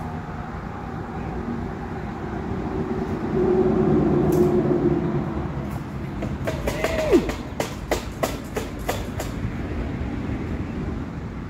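A train rumbles steadily at moderate distance, followed by a rapid series of sharp metallic clicks and knocks, with a brief rising squeal in the middle.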